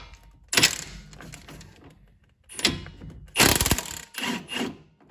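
Wrench loosening the nut on a sway bar end link while swapping a bad shock on a Ford Mustang, a few bursts of ratcheting and metallic clicking close by, separated by quiet pauses.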